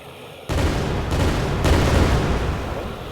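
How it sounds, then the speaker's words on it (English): A thrown grenade goes off in a video game. A sudden loud blast is followed by a long rumbling roar with further booming surges, all close and heavy. "Oh, I just threw a grenade."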